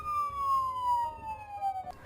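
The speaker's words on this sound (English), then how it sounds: "Soon, I heard sirens screaming behind me." In a video game, a police siren wails behind a fleeing car, a single clear tone gliding slowly downward over a low engine rumble, loud and close.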